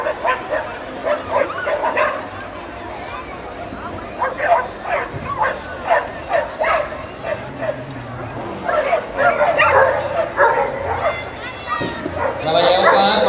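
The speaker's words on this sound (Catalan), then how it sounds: "El gos és un gos d'aigua espanyol," A Spanish water dog barks and yips repeatedly in short bursts, with some whimpering, at an indoor agility exhibition in the midi category, while a commentator talks over the sound throughout.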